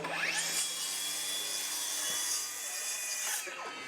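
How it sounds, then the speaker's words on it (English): A Milwaukee rear handle circular saw with a Forge battery spins up and cuts through wood, a steady high whine lasting a few seconds before spinning down. "If you're looking for one do-it-all handheld circular saw, I highly recommend"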